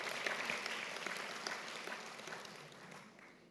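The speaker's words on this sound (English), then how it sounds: "give a round of applause to the Majesty" An audience at a university's 10-year anniversary celebration gives a round of applause in honour of a king, a full, sustained clapping that gradually tapers off over several seconds.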